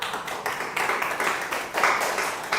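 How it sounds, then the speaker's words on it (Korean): Congregation in a church applauding, a continuous dense patter of many hands clapping together, fairly loud and close, with swelling bursts. "하나님께 영광의 박수를"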